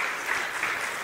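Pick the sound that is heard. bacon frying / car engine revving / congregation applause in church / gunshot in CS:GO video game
congregation applause in church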